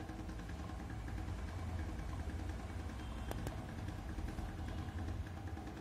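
A blower fan in a heat management system runs continuously, a steady whirring hum with no change in level, heard alone at moderate volume.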